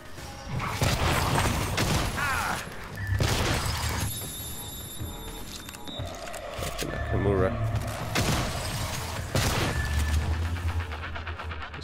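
Shotgun blasts and other combat noise in the video game Prey, several loud booming shots spread irregularly among mechanical clanks and crashes, with someone talking over the action.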